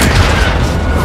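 An RPG rocket explodes in Call of Duty Modern Warfare 2: a loud, heavy, low boom fills the whole second with dense rumbling and gunfire-like crackle, with a voice faintly present.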